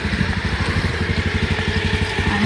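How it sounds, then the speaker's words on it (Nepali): A motorbike engine idles close by in light rain, a rapid, steady low-pitched putter that holds its rhythm throughout without voices. "हामी यहाँ बाइक स्टार्ट गर्दै हुनुहुन्छ"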